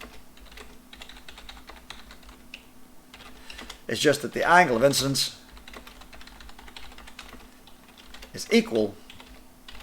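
Rapid clicking keystrokes on a computer keyboard tap along steadily and close up, with someone speaking over parts of the typing.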